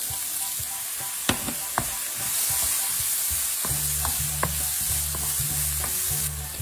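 Leeks hit hot oil in a wok for Chinese fried rice, giving a steady, close sizzle and frying hiss with scattered spatula scrapes and stirring clinks throughout.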